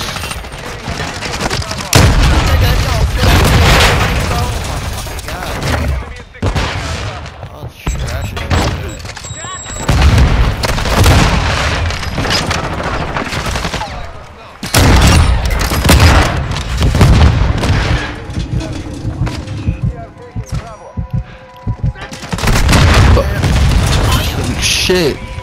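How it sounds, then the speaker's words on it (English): Rocket launcher blasts and rapid gunfire in a multiplayer shooter video game, heavy booms and bursts of shots pounding through most of the stretch, with a player talking over the action. "They keep shooting me with that fucking rocket launcher"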